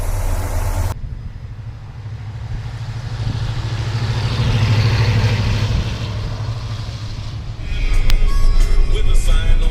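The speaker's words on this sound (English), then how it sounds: "I just wanted to show you what it looked like underneath the hood and let you hear it run a little bit." A 1976 Ford F250 Supercab runs steadily under its open hood with a low, continuous engine drone. A short cut opens it, and it swells slightly louder near the end.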